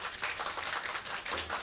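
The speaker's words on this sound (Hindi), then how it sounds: "देखिए तमाम लोग एक बार जोरदार तालियां हो जाए।" Onlookers clap loudly outdoors at a tea stall in Lucknow: a short burst of dense, continuous clapping from a group of people.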